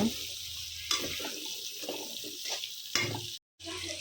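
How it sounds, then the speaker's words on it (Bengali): Potato pieces dusted with turmeric fry in a pan with a close, steady hiss and soft stirring scrapes, interrupted by a couple of louder clatters and a brief dropout near the end. "আলুগুলো একদমই লাল লাল করে ভেজে নেব"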